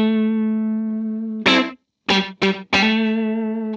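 Sustained distorted electric guitar chords through a Line 6 Helix dynamic plate reverb set to a very short decay. Chords ring loud and close, cut off, then return in a few sharp stabs, each ending with a brief, tight tail.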